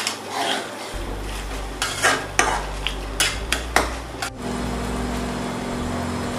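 Potatoes and bottle gourd curry stirred in a pan. A spoon scrapes and clacks against the metal in a quick irregular run, then a low steady sizzle carries on alone.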